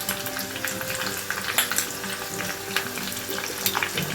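Green chillies fry in a hot pan with a steady sizzle and crackle, joined by occasional stirring scrapes, close and fairly loud.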